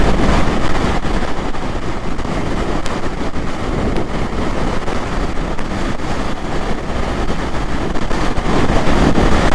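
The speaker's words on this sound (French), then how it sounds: "D'autant qu'en plus, on a le vent qui est plein travers." A strong crosswind roars and buffets against the microphone in a loud, continuous rush during a storm near the North Cape, with no voices.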